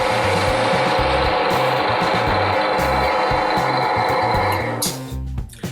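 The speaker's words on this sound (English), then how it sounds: "So let's check if the machine actually works." A Titan TTB541DBT drill press runs with a steady mechanical whir and a rhythmic low thumping throughout, close and fairly loud, spinning down toward the end.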